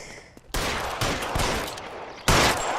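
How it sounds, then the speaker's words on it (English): Gunfire in the video game LA Noire, with a few loud, sharp shots spaced unevenly, each cracking suddenly and ringing briefly before the next, up close with no talking over them. "I thought he was just gonna fall if I shot him in the leg."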